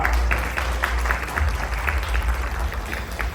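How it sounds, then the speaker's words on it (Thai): An audience applauds people on a stage at a formal event, a steady, dense patter of many hands clapping continuously. "ขอเสียงปรบมือดังๆนะครับ ให้ท่านบนเวทีด้วยนะครับ"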